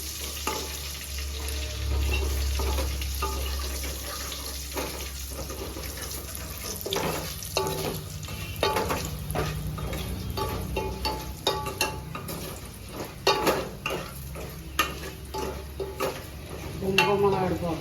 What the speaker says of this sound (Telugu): వెల్లుల్లిమిరపకాయలు తిప్పి వేసుకోవాలి.